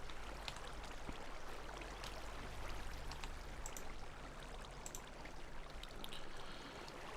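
Flowing water placed in the Minecraft video game, a steady soft trickling and rushing wash that runs continuously at low level without pause.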